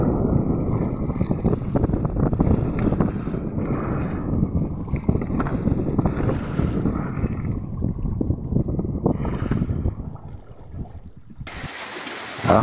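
A fishing boat motor drones steadily and loudly with wind buffeting the microphone, cutting out near the end before a brief burst of noise.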